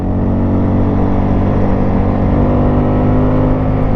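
A 1996 Yamaha Wolverine 350 ATV 4x4 on knobby tires pulls along a road with a loud, steady engine drone that holds nearly constant pitch, close up and without talk.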